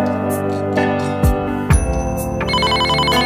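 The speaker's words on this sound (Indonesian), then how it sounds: "Mama telepon." Phone ringtone from the Sakura School Simulator game: a bright repeating electronic melody of chiming tones, steady and fairly loud, with a few short sound-effect hits in between and no talking.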